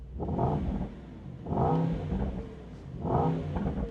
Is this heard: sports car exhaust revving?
yes